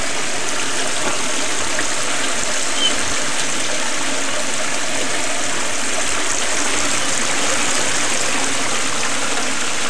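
Steady, loud rush of recirculating water running through a gold trommel, continuous and close, with a faint mechanical hum beneath and no voices.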